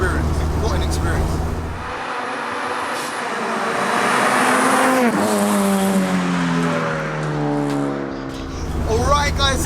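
A supercharged K-swapped Honda Civic coupe time attack car driven hard, its engine loud and close, revving with climbing, sweeping tones and shifts that repeat through the run, with a voice occasionally mixed in.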